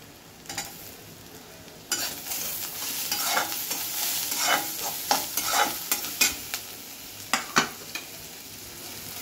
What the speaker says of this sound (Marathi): कांदा आपला आता चांगला भाजला गेला आहे। त्यात मी आता 15 ते 20 लसूणच्या पाकळ्या टाकते